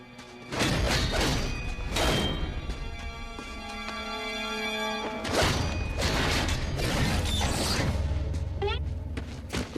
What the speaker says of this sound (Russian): Это же дверь!